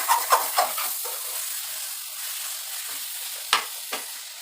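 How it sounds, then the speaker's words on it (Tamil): A spoon stirs tomato masala frying in a pan, giving a steady close sizzle with several scraping strokes near the start and two more sharp scrapes toward the end. "இப்போ நம்ம இதை ஒரு கிண்டிக்கலாம்."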